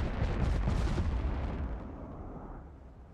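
A heavy boom from battleship guns firing in the naval game Ultimate Admiral: Dreadnoughts, a loud deep blast that rolls and rumbles, then fades out over about three seconds with no talking.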